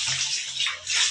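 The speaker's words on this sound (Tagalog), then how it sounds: "Hindi makita si Akay na naliligo" Water rushes and splashes during a bath, a close, steady hissing stream with slight surges, alone without talk.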